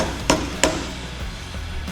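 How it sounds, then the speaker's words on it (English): Two distinct, close metallic taps as a hanger bracket is gently tapped into place on a Harley-Davidson Road Glide, spaced about a third of a second apart, then fainter handling sounds. "I'm going to just kind of gently tap this hanger bracket through"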